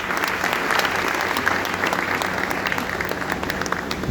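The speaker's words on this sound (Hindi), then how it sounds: "हमारे सारे टीचर्स के लिए एक बार तालियां होनी चाहिए" Steady applause from an audience at an ITI convocation ceremony, honouring the teachers: dense, continuous clapping that holds at an even level throughout, with no voices over it.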